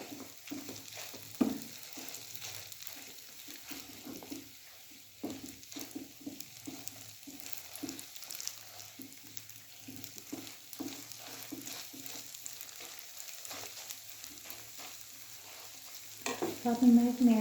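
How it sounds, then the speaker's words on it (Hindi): Malai halwa mixture roasting in leftover ghee, stirred with a spoon in repeated soft scraping strokes over a low frying hiss, close and quiet, growing a bit louder near the end. "जो थोड़ा सा घी इसमें रह गया उसमें मैं इसकी भुनाई करूँगी।"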